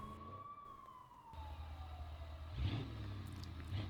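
An ambulance siren in the BeamNG driving game sweeps downward at moderate loudness. It fades under the engine rumble of cars revving as they pass.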